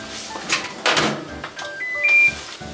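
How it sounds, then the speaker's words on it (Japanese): A microwave oven door clunks shut among several kitchen knocks and thuds, then the oven starts with a beep and a low hum, recorded close in a home kitchen during cooking. "電子レンジ、いってらっしゃい。"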